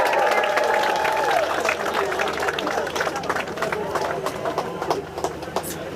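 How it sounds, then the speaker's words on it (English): Outdoor crowd at a pumpkin regatta festival in Maine cheers and applauds continuously, a broad, steady wash of clapping and voices with some shouting mixed in. "Give them a big cheer."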